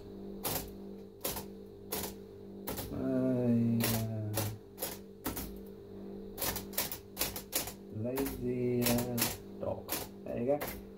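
Typing on an Olympia Traveller de Luxe portable typewriter: a close series of sharp mechanical key strikes in uneven bursts, with a carriage bell or return mechanism ringing twice, while a person speaks between strokes.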